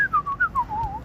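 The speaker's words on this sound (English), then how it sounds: "he can whistle in tune" A man whistles a short melodic tune, clear and close, the notes sliding up and down in quick phrases on an evening walk.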